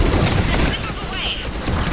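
Missiles launching in the Mass Effect 3 mission Priority: Thessia: a dense, continuous roar of booming blasts and rapid fire-like bursts fills the space, loud throughout, with a faint whistling sweep partway through and voices talking underneath.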